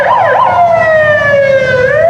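An ambulance siren used to deliver the 1986 Reagan administration budget to reporters wails loudly and close, a continuous tone sweeping at first and then slowly falling in pitch, heard alone.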